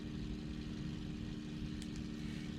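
The Merlin engine of a Supermarine Seafire in Microsoft Flight Simulator, a steady washy drone with a low rumbling hum, continuous and even, with no talking.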